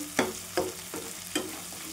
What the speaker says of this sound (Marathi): बघा किती छान शिजलेला आहे आपला मसाला आणि तेल सोडत आहे.